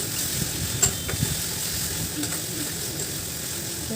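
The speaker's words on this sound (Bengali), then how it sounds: "এভাবে কষতে থাকবেন, তাহলে মশলাটা জ্বলবে না" Spice paste for a raw banana kofta curry with prawns being stirred and sautéed in a pan, giving a steady soft sizzle with a few scraping stir clicks, close and even throughout.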